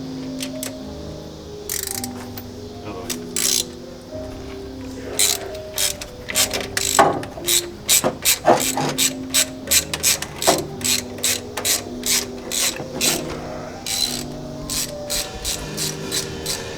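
A socket wrench ratchets on a classic car engine during a home rebuild, with bursts of rapid close clicking that grow into a steady rhythmic run of ratchet strokes over background music.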